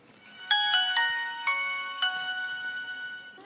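Nokia mobile phone ringtone playing its familiar melodic tune, a handful of bright ringing notes in a short phrase, clear and close with no talk.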